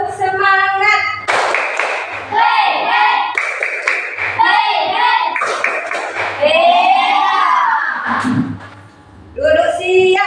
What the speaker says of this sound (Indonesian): Sebelumnya kita tepuk semangat dulu ya, biar lebih semangat.